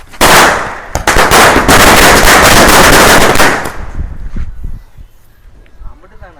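A string of Diwali firecrackers bursts in a dense, loud, rapid crackle for about three and a half seconds, then thins to scattered pops as voices chatter nearby.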